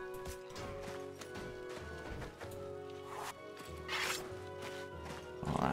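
Horses thud and clop through a battle in the video game Mount and Blade: Warband, Viking Conquest, their hoofbeats and gear rattling under continuous tonal game music.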